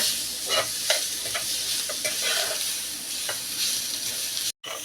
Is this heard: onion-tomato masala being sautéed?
yes